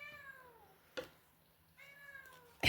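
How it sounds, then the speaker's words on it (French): A house cat meows twice indoors, each call a drawn-out, falling cry, the second starting after a pause, with a sharp knock and a loud rustle between and at the end. "Ah, mais c'était le chat."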